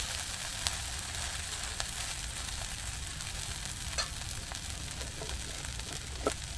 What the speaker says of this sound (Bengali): দেখো আমরা দুটো দিকে কিন্তু ভেজে নেব